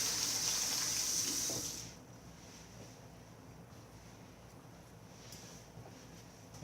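Hands are rinsed under a running kitchen tap while making Dominican meatballs: a loud, steady broadband water hiss for about two seconds, then a quieter, softer flow.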